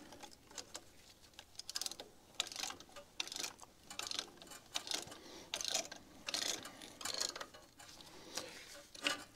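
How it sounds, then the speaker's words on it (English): A ratcheting brake caliper piston compressor tool is worked slowly on the front brakes of a 2005 Ford F-350, giving steady, close, crisp clicks in a loose rhythm, with no talking. "Ratchet it nice and slow so you don't push fluid back through your brake cylinder too quickly."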